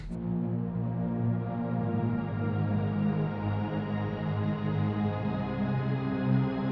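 Analog Lab synth pad, a dense sustained chord that swells in after a brief attack and holds steadily with a soft, rich drone, unbroken and moderately quiet, with no speech.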